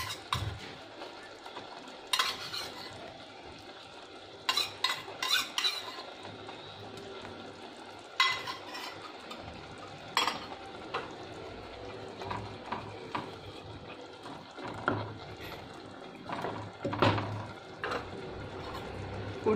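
Cubes of homemade paneer are stirred in a pan for matar paneer, with soft sizzling under intermittent clinks and scrapes of a spoon against the pan.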